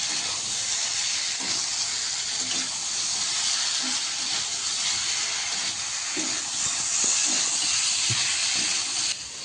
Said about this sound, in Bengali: মশলার সাথে সবজিগুলো ভালো করে কষতে থাকবো।